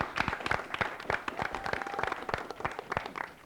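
An audience breaks into applause, with dense, steady clapping from many hands for a few seconds and no clear talk.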